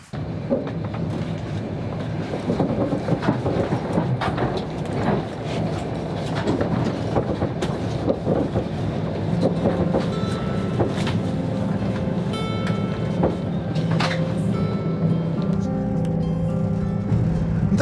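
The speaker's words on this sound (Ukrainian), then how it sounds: "сів потяг, їду" A passenger train rolling along rails, heard as a constant close rumble with scattered rail clicks and faint tonal squeals, without speech.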